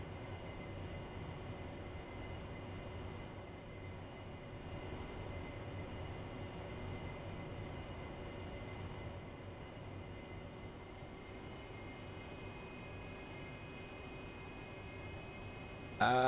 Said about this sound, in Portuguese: É um trem no chão